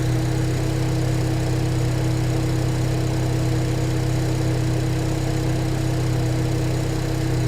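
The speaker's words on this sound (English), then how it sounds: "both fans are running" Car engine idling with both radiator cooling fans running, a steady, loud, continuous whir and hum with a low engine drone underneath, unchanging throughout and with no talk.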